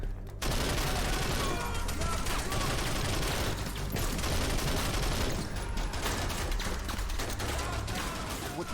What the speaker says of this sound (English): That's a gun, man.